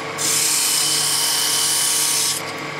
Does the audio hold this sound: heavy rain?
no